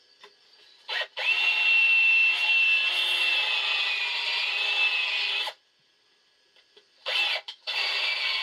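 A power drill spins a tapered bit in a hole while reassembling a Snapper Model 3081 mower deck, giving a steady grinding, rasping whine for about four seconds, then a pause before a second burst.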